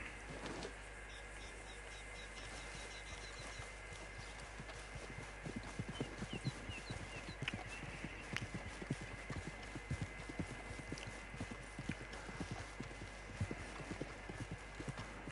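Horse hooves clip-clop in a steady rhythmic walk in a hunting video game, close and fairly loud over a quiet outdoor ambience, continuing through the whole stretch.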